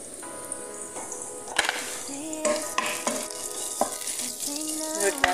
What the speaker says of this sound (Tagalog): Lagay natin ang onion.